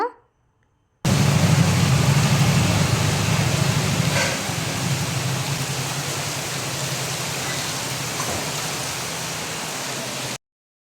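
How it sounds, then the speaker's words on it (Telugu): A heavy downpour of rain lasting hours roars as a dense, continuous hiss, loud at first and then settling slightly lower, after a brief silent start. "నాన్ స్టాప్గా టూ అవర్స్ పైనే పడిందండి కుంభకోత వర్షం అనమాట"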